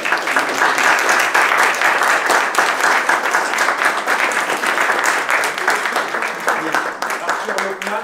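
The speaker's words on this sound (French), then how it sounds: "je pense qu'on peut l'applaudir" Sustained audience applause at a conference, a dense steady wash of many hands clapping loudly and evenly throughout, with faint voices mixed in.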